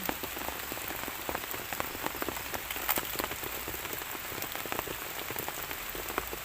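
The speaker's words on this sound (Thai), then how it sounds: "ทำงานไม่ได้อีกแล้วพี่น้อง ฝนตกอีกแล้ว" Steady rain pattering on a hard surface outdoors in southern Thailand, a dense, even hiss of drops with occasional sharper splashes close by, continuing throughout.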